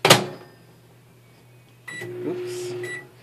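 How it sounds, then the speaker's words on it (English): A microwave oven heating a medium sweet potato in a microwave-safe bowl: a sharp thud, then a quiet pause before a steady running hum starts, with brief high electronic tones near the start and end of the hum. "we will stick it in the microwave for about 6 minutes."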